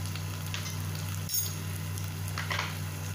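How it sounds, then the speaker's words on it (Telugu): Masala spices, including coriander powder and garam masala, fry in a pan for a dhaba-style mutton biryani, giving a steady close sizzle over a low constant hum, with a few faint stirring scrapes. "ఇదంతా బాగా కొద్దిగా ఫ్రై చేసుకోవాలి."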